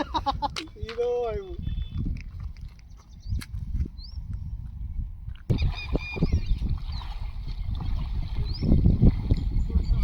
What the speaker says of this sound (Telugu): పక్షుల శబ్దం మాత్రం చాలా ఆహ్లాదకరంగా ఉంది